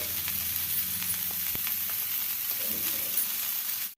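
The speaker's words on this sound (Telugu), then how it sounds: "ఉల్లిపాయ అయితే గోల్డెన్ కలర్ వచ్చే వరకు వేసుకోవాలి" Chopped onions fry in a hot pan for an omelette, browning toward golden, with a dense, steady sizzle that crackles close up and stays loud and even throughout, no voices.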